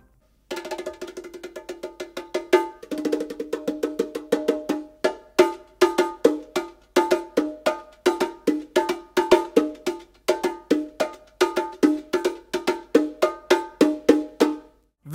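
Meinl Percussion bongos are played alone in a quick, steady groove of sharp, bright hand strikes, each hit ringing briefly with regular accents throughout.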